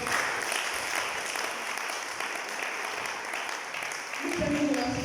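Church congregation applauding during a worship service, a steady broadband clatter of many hands filling the room, with voices rising near the end.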